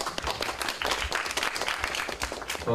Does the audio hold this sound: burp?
no